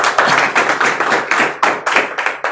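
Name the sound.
audience clapping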